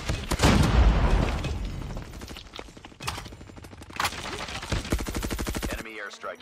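Groza assault rifle firing in a ranked video game match, heard as loud, rapid bursts and volleys of automatic gunfire with short pauses between them and a few heavier booming shots mixed in.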